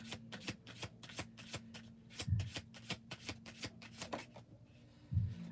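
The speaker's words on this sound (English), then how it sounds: "we'll try one more shuffle" Tarot cards being shuffled by hand in a rapid run of crisp riffling flicks, close and fairly quiet, with a couple of soft thumps as the deck settles and a brief pause near the end.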